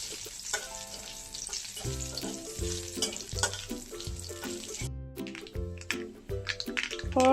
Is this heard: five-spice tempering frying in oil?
yes